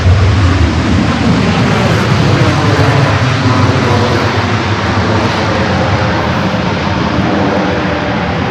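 An airliner that has flown in from Vancouver is at Los Angeles LAX airport. Its jet engines produce a loud, continuous roar that stays steady and close throughout, with no one talking.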